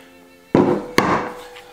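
Hammer striking a wooden butcher's cutting board in a home kitchen: two sharp, loud thunks about half a second apart, each leaving a short ringing decay, with no talk.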